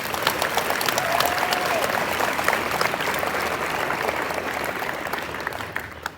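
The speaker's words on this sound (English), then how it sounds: "big round of applause, please" An audience gives a round of applause for school counseling and medical staff, a dense, steady wash of many hands clapping that holds for several seconds and then begins to taper off near the end.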